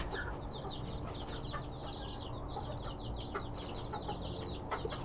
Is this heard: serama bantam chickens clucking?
yes